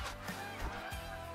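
Honking from a wild goose flying low overhead during a waterfowl hunt, a few short nasal calls in quick succession, close and fairly loud against outdoor background noise.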